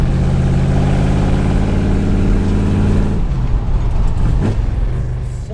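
A 1967 Ford Mustang engine runs while the car is driven, a loud, steady mid-pitched drone that eases off and fades slightly toward the end.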